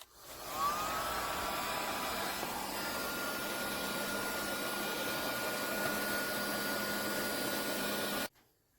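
Heat gun blowing steadily on the engine case of a 1984 Kawasaki KDX 200 in a garage, a loud continuous fan-and-air roar that runs unbroken for about eight seconds before cutting off abruptly, with no talking.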